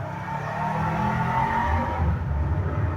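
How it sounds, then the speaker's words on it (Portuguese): A car or motorbike passes by outside, its engine a steady loud drone that swells and fades over a few seconds, with no talk over it. "pera aí que o carro tá passando. Carro, moto, não sei que porra é essa"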